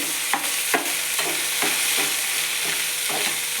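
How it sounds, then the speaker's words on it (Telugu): Tomatoes frying with salt in a pan for a lasooni methi curry, a continuous close sizzle with rhythmic stirring scrapes repeating about every half second, no voices. "తగినంత ఉప్పు టమాటా బాగా వేయించుకోవాలి"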